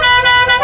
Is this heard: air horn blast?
yes